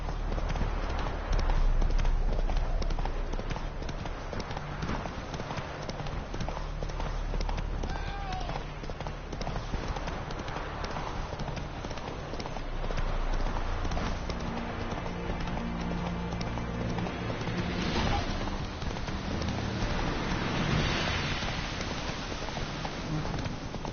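Roach the horse galloping in The Witcher 3, rapid hoofbeats pounding steadily and fairly loud throughout, mixed with music and game ambience.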